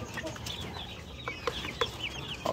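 Chicks or young chickens clucking and peeping in short scattered calls, moderately close, with a faint steady background hum and no talk.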